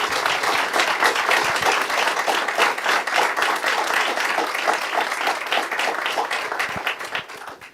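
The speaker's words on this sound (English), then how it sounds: "Let's give them a round of applause." Dense, steady applause from a city council audience honoring students who won the Military Order of the Purple Heart National Youth Leadership Award, many hands clapping continuously before thinning out at the end.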